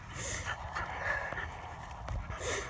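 Two dogs wrestle roughly, with panting, snorts and scuffling paws, close and continuous with small whimpers mixed in.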